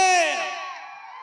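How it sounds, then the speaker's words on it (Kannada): A crowd at a live music show featuring a singer breaks into whoops and cheers, a loud burst that fades steadily over about a second. "ಬರಲಿ ಒಂದ್ಸರಿ ಜೋರ ಚಪ್ಪಾಳೆ"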